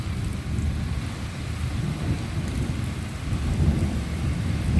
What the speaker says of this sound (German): der Blitz ist irgendwo eingeschlagen.